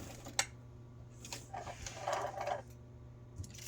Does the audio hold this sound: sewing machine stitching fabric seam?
yes